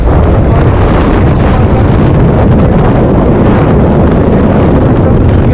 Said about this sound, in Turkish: rüzgar rüzgar.